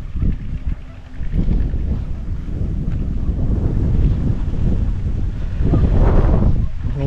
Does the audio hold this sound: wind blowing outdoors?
yes